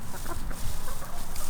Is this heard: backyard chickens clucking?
yes